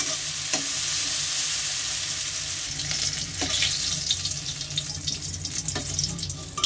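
Fried vegetables for a puishak dish sizzle loudly in a pan as they are stirred, with scraping spatula strokes cutting through the continuous hiss.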